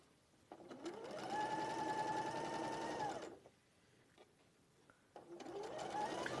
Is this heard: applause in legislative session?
no